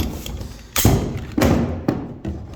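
Sig P320 X Five Legion handgun being taken apart by hand, with three or four distinct hard metallic clacks and thuds spaced about half a second apart over faint background noise.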